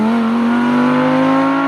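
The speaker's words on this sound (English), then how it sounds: "that was some of the sharpest acceleration I've ever felt" An Audi R8 sports car accelerating hard, a loud sustained engine drone with a steady rising pitch heard close, as from inside the car, and no talk.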